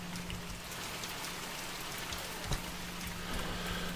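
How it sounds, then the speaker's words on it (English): Steady rain patters indoors inside a morgue in the horror game The Mortuary Assistant, a dense, even hiss of falling drops with a faint low hum beneath and one brief knock partway through. "Why is it raining inside?"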